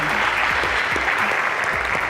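Spectators at a televised Abuja secondary-school quiz contest give the Louisville Secondary School team a round of applause, thick and continuous clapping at constant volume throughout.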